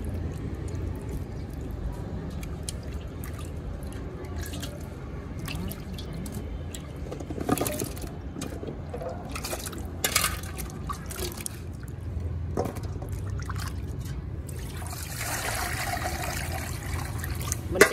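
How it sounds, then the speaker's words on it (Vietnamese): Water sloshing, trickling and dripping continuously as pickled leek bulbs are rinsed by hand in a basin, with occasional louder splashes and a faint voice in the background. "Mình sẽ rửa một nước cuối nữa thôi, tại cái củ kiệu của mình đã sạch và đã đẹp rồi các bạn ơi."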